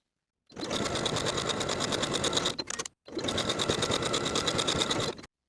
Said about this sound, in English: Sew at 3/8 of an inch.